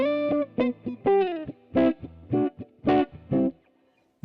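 Warm, mellow Gibson ES-335 hollow-body electric guitar, tone control turned down, playing a short jazzy line of single notes and chords, dark rounded tone with slight sustain, then fading out.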